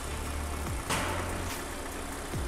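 Steady, quiet idle of a Hyundai LF Sonata LPI's LPG engine heard with the engine bay open, a low even hum with a couple of faint brief rises, no talking.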